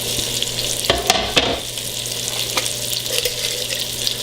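Onions frying in melted butter with garlic in a pan, a close, bright sizzle with several sharp crackles and spatula knocks early on, then a steady hiss, no talking.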